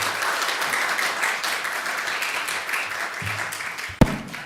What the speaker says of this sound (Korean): 우리 나오실 때 큰 박수로 환영해 주시기 바랍니다.